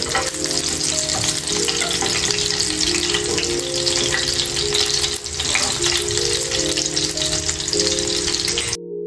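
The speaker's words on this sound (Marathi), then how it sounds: "हे उरलेले मी आता फ्राय करून घेते" Seekh kebabs frying in a pan, a loud, sustained sizzle with steady crackling and some low hum underneath, close up and unbroken until an abrupt cut at the end.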